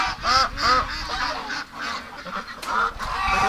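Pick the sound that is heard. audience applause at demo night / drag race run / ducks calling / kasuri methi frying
ducks calling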